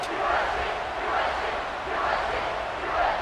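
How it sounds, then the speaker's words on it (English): Football stadium crowd roaring and buzzing after a touchdown at a Texas A&M versus South Carolina college game, a dense, steady wall of cheering with gentle swells throughout. "this crowd is buzzing after that last score"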